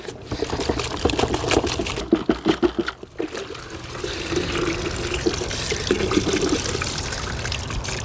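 Rinse water pouring and trickling out of an R2C air filter after a bucket soak, with a burst of close splashes and drips, then a steady stream of running water for several seconds.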